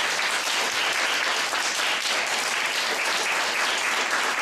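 A party audience gives big, even applause at a debate on a new party name for the Progressive Justice Party, a dense, continuous wash of clapping with no pause.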